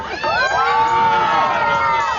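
Children and crowd cheering and shouting at a concert in Bahria Town, loud overlapping whoops and high sustained yells filling the whole two seconds.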